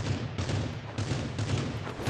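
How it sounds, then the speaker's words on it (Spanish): Dense bursts of gunfire crackle continuously in the video game Rules of Survival, loud and close, with rapid repeated shots merging into a sustained barrage. "Estoy aquí metiendo tiros."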